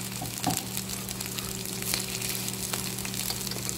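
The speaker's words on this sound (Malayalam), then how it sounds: "ഒന്നിച്ച് തന്നെ ഫ്രൈ പാനിലിട്ട് പൊരിച്ചെടുക്കുന്നുണ്ട്" Shrimp vada, a Kerala fried snack of minced shrimp, sizzling steadily in oil in a frying pan, a continuous close crackle with a faint steady hum underneath and one brief clatter near the start.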